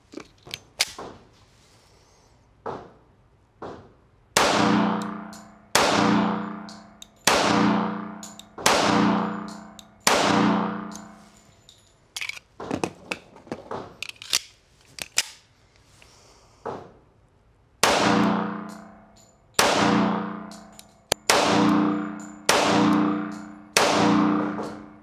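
A Springfield Armory Custom Shop Professional 1911 pistol in .45 ACP fires repeatedly outdoors, sharp loud shots coming in quick strings of several rounds with short pauses and some metallic clinks between strings.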